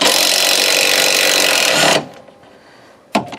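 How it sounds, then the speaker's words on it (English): An impact tool zips off the strut nuts on a 2005–09 Ford Mustang in one loud, dense buzzing burst lasting about two seconds, then cuts off, followed by quiet clatter and a short sharp knock. "so I'm going to zip them off with the tool."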